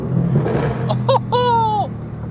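A Mercedes-AMG GT R engine accelerating hard: a steady low rumble from inside the car, with a rising tonal whine that climbs and holds before dropping away.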